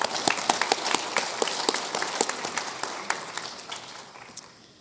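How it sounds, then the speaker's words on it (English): A conference audience applauds its three panelists, brisk scattered claps from a modest crowd that hold steady, then gradually thin and fade toward the end, with no talking over them. "could we give a round of applause for our 3 panelists?"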